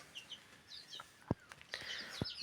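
Hens in a backyard flock give a few short, sharp clucks over soft chirping, with scattered brief calls spread across a couple of seconds.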